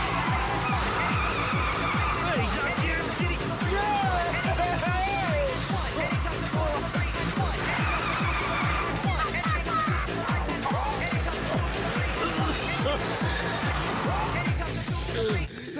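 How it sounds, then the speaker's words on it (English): A car does a burnout, its engine revving hard in steady pulses while the tires squeal and skid continuously and loudly at close range, with people talking over it. "there's no way it could do a burnout if it was not roadworthy"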